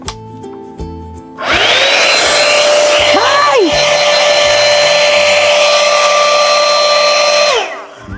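A handheld hair dryer switches on close by with a loud, steady whirring roar, holds for several seconds, then winds down. A brief voice comes just before it starts.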